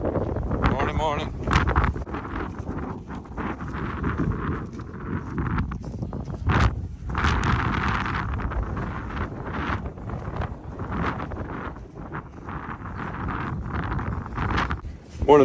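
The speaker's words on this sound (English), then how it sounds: "We got 40-mile-an-hour winds right now" Strong 40 mph wind buffets the microphone outdoors on a farm, rumbling and gusting throughout while someone talks over it.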